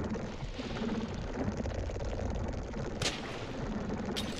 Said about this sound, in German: Der verschießt seine ganze Muni für mich.